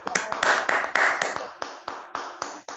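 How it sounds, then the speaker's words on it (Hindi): Sparse claps from an audience at an awards-style gathering, a handful of distinct sharp hand claps in an uneven rhythm, fairly close and moderately loud, with no talk over them. "दोस्तों एक जोरदार तालियां हमारे"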